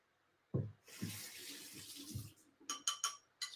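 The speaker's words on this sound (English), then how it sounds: "Let's put some water in there." Water runs from a tap ahead of blade sharpening, a steady broadband rush that starts abruptly after a brief knock and continues for several seconds, followed near the end by a few short bright clinks.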